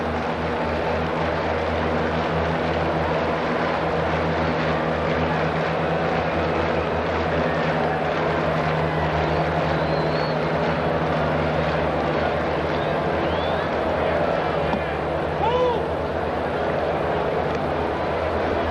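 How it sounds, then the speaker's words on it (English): Small propeller airplanes circle over a baseball stadium during a game, their engines a steady, distant drone blended with crowd ambience throughout. "two of these little airplanes appear to be having a dogfight over there."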